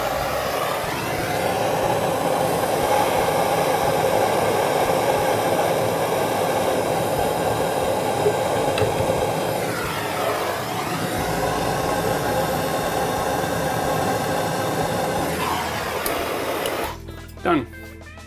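A torch heats a copper pipe joint on a shower valve before soldering, its steady roaring hiss continuing for most of the stretch with brief dips, then cutting off near the end.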